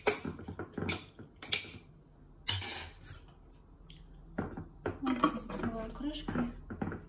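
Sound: closing a jar of marinated tomatoes with a lid

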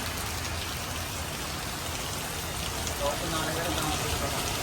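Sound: heavy rain falling

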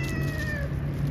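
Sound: cat meowing

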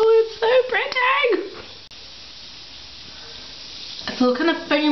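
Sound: Lush Frozen bath bomb fizzing and foaming in bath water

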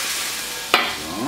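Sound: orange juice sizzling in hot pan

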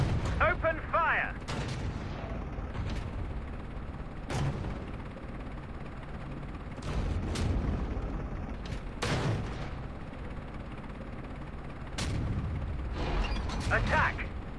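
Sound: tank cannon fire in a tank video game

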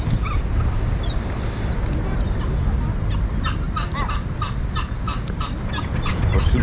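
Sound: birds in a park by the Bosphorus, Istanbul

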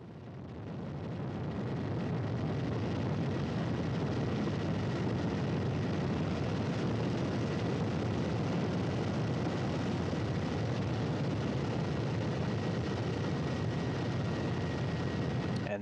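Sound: Russian search and recovery helicopter in flight

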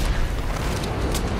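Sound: gun firing in a video game

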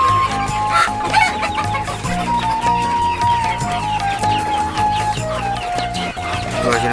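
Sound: native desi chickens clucking on a farm

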